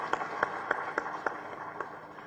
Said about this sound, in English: Another round of applause as she takes her seat.